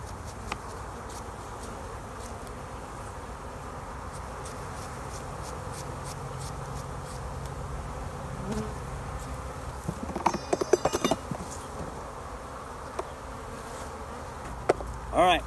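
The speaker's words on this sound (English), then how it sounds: "anticipating that the bees get a little bit mad sometimes" Honey bees buzz around an open hive during evening queen-rearing work, a faint steady drone with scattered clicks and light handling taps near the hive, and no talking.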